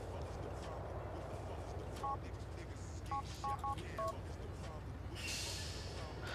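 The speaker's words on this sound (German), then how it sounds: "So, Telefon." A phone in the video game GTA IV beeps through a short run of dialing tones, a single beep followed by a quick cluster of several, faint under steady background game noise.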